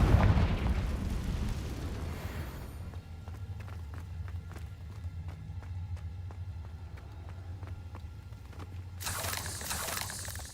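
A Confringo blasting spell goes off in Hogwarts Legacy, a loud bursting explosion at the start that decays into a low rumbling game soundscape, with a second bright whooshing burst near the end.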